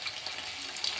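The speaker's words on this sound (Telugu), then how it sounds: "అన్నీ డీప్ ఫ్రై అవ్వనివ్వాలి." Chicken pakodi deep frying in hot oil makes a brief, soft, continuous crackling sizzle, close by, with no one talking.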